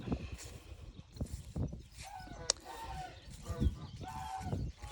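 Chickens and geese at a henhouse give scattered clucks and honks, fairly faint, with brief rustling in between.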